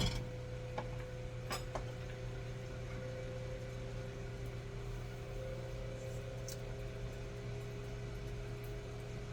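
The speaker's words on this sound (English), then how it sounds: "Start my oven over there. Yeah, I'm using that toaster oven." A toaster oven runs in a kitchen, giving off a steady low electrical hum with a faint whine that holds level throughout, broken by a couple of small ticks near the start.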